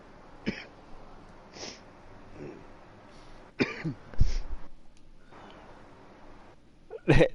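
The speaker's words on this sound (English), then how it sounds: "You probably talk about me coughing." Several short, close coughs and throat-clearing bursts come at irregular intervals over a quiet background, with a louder cough near the end.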